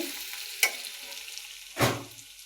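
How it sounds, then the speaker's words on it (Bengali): Potatoes sauté with spices in a pan, giving a quiet low sizzle broken by two stirring scrapes, the second longer and louder. "আলুগুলো ভালো করে আমি এই মশলার সাথে কষায় নেব"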